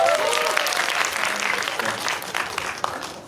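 An audience at a Megabox COEX cinema stage greeting for the Korean film 'Bad Police' claps loudly and steadily, the applause fading slightly toward the end.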